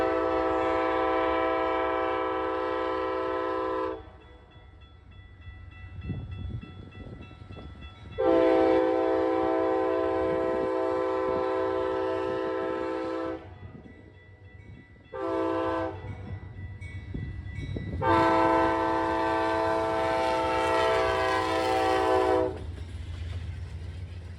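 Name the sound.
southbound Hiawatha passenger train passing, P42 locomotive, horn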